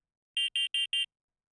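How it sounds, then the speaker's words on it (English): A visual novel's emergency communication alarm sounds as four rapid, evenly spaced electronic beeps, sharp and bright with crisp edges, followed by silence; no voices accompany it. "Her voice is cut off by a sudden siren. It's the FS emergency communication alarm."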